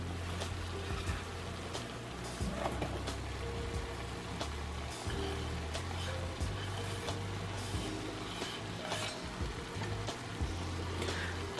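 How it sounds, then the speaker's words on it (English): Ground meat cooks in a pan for a Mexican lasagna, with a faint, steady sizzle and crackle like light rain. Soft scattered pops sit over a low background hum throughout. "now that we have the meat starting to cook"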